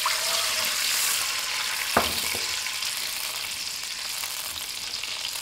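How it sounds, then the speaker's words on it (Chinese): Water poured into a hot oiled pan of frying chili peppers and minced garlic, a loud steady sizzle with a brief sharp burst near the middle, then continuing hiss alone. "出来香味后，加入1碗水"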